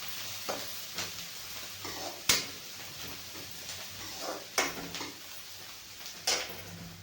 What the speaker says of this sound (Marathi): इकडे कांदा लाल होतोय तोपर्यंत ही डाळ आपण ठेवणार आहे